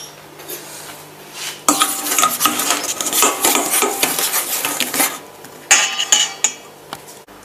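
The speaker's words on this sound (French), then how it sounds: "Mélangez les œufs, le sucre et le sel." Eggs, sugar and salt stirred together in a bowl for shortbread dough, giving close, busy scraping and clinking of utensil against bowl, starting after a quiet opening, pausing briefly, then resuming.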